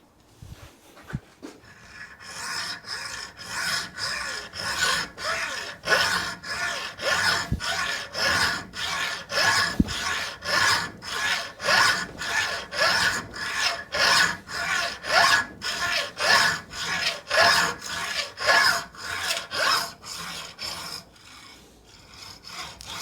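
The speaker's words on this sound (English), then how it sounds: "Give me cranky old hacksaw." A hacksaw cuts through a motorcycle cable on a Royal Enfield Bobber: close, steady back-and-forth rasping strokes in a regular rhythm, about twenty in a row, with no talking.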